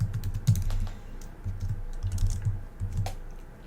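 Code typed on a computer keyboard, a steady run of close, crisp key clicks in uneven bursts with short pauses between, heard alone without talk.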